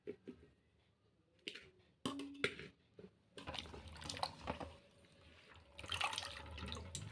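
Tap water running and splashing into a bowl of gongura leaves being washed in a kitchen, quiet at first, then louder, steadier pouring with drips and squishy handling of the wet leaves.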